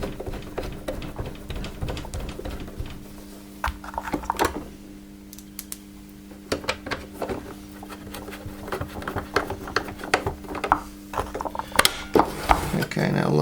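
Small screws being driven in by hand during a motor change on a Dyson DC05 vacuum cleaner, heard as close, busy ratcheting clicks and mechanical patter with a steady hum underneath and a short pause midway.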